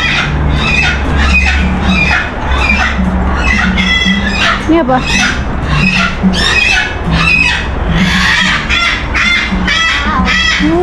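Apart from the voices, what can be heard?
birds calling in an aviary bird park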